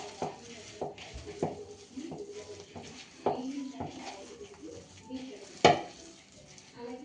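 Turmeric, chili powder and ginger garlic paste being mixed in a bowl: soft clinks and scrapes of a spoon against the dish come in an irregular rhythm, close up, under a speaking voice.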